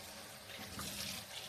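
Water runs from a tap during rinsing with soapy water while cleaning, a short, soft, steady splashing rush.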